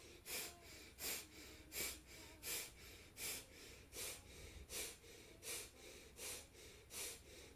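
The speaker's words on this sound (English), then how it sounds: "So starting your breath of fire." Rapid rhythmic breath-of-fire breathing during a Kundalini yoga class, about eleven forceful nasal exhalations at a steady pace, close and fairly soft.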